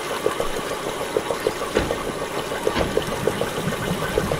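A water pump chugs in the Myst video game's Channelwood Age, a steady mechanical running sound with evenly spaced knocks a few times a second over a continuous rushing hiss, with no voices.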